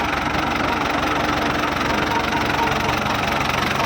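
A Ford tractor with a T3 engine and a 6610 rear end idles steadily up close, its continuous engine rumble and knock holding level throughout.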